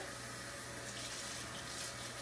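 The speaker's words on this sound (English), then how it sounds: "Now I'm going to add some more water." Water poured slowly from a spouted container into grits in a mixing bowl, a steady continuous trickling and splashing heard close up with no talk.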